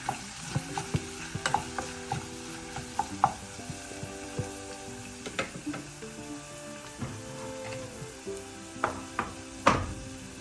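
Chicken liver with tamarind sautés in a pan, with a low sizzle under frequent sharp clinks and scrapes of a spoon against the metal, close and rhythmic in bursts.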